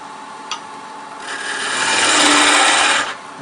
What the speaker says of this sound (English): Now all we got to do is come back behind with the parting tool.